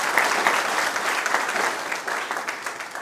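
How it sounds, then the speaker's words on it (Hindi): Audience applause welcomes a panelist at a college discussion event on higher education, a steady, dense clapping from a crowd lasting a few seconds, fairly close. "तो इनका स्वागत कीजिए जोरदार तालियों से"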